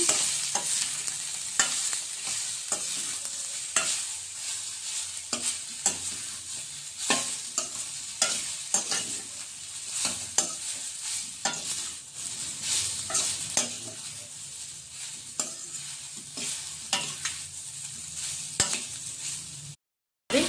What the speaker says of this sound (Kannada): ಇನ್ನು ಒಂದೇ ಒಂದು ನಿಮಿಷ ಎಣ್ಣೆಲಿ ಫ್ರೈ ಮಾಡ್ಕೊಳ್ಳೋಣ